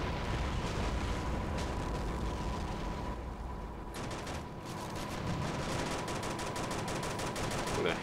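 Sustained gunfire in the video game Call to Arms, a dense crackling barrage of rapid shots and booms that runs continuously and loud through the whole stretch.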